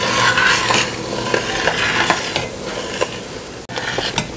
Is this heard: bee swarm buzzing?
no